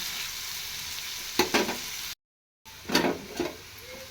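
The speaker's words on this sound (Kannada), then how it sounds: "ಉಳ್ಳಾಗಡ್ಡೆ ಹಾಕಿ ಈ ಥರ ಸ್ವಲ್ಪ ಉಳ್ಳಾಗಡ್ಡೆ ಫ್ರೈ ಆಗಲಿ ರೀ" Onions fry in a pan with a continuous close sizzle, broken by two bursts of stirring scrapes and a short silent gap between them.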